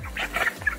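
Broiler chickens, 28 days old, on a poultry farm give a brief burst of soft clucks and squawks while they are handled for weighing. The sound is close and lasts under a second.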